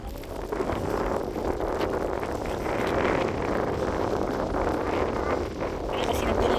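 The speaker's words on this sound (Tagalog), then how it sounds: "Medyo malakas po yung hangin kahit mainit." Strong wind blows on a hot day outdoors, a steady loud rushing roar buffeting the microphone throughout, with faint voices underneath.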